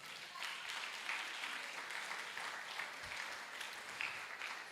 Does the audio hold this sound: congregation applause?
yes